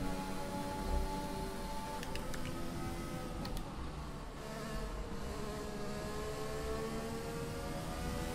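A Formula 1 car engine in F1 2020 screams at full throttle, a steady, high-pitched buzzing whine with layered harmonics that holds continuously and rises slightly, with no talk.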